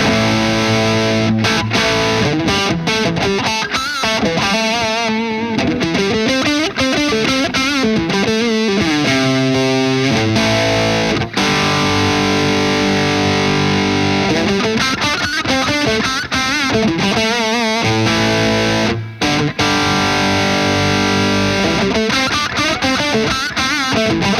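Heavily overdriven electric guitar through a Carl Martin Plexi Ranger plays continuously while its treble booster frequency control sweeps the emphasized frequencies up and down, loud and upfront.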